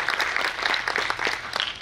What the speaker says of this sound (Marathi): आपण एकदा जोरदार टाळ्या वाजवून पुढे जाऊया